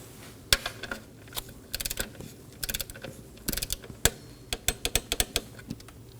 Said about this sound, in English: torque this down to 62 inch-pounds